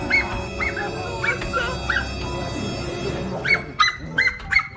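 A dog barks and whimpers in short yelps and whines, fairly close, in a hiding spot during a police-chase game, the bursts sharper and louder near the end.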